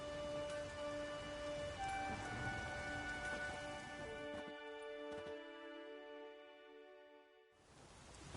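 Steady rain falls in a video game scene, a dense continuous patter with a tonal musical drone layered over it that drops away midway, leaving the rain alone before a brief swell returns.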